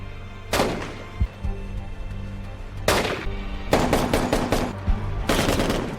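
Gunshots at shooting practice in an action movie scene, several loud sharp reports spaced irregularly, some in quick clusters, over a steady low background rumble.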